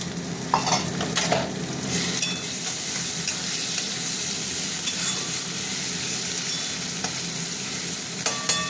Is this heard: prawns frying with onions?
yes